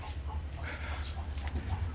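Native chickens in muddy, well-ventilated farm pens give soft, scattered clucks over a low steady background hum.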